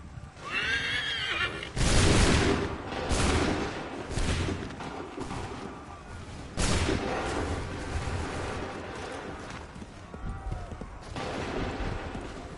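Musket volleys from Assassin's Creed 3 crack out in several broadband bursts, loud and close, mixed with horse whinnies and hoof clatter over a noisy battlefield bed with no speech.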